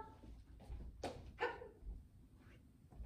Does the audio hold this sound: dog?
yes